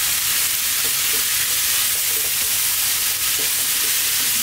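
Black beans and chopped tomatoes sizzle steadily in a hot pan, a loud continuous frying hiss with soft stirring scrapes throughout.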